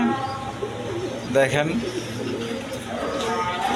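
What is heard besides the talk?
pair of pigeons cooing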